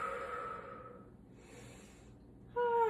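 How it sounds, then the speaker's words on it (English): A person breathes steadily through slow yoga shoulder circles, with soft airy inhales and exhales close by and a brief louder breath right at the end. "Breathing."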